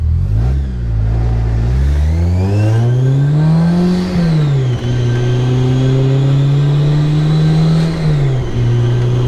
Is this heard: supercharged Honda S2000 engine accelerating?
yes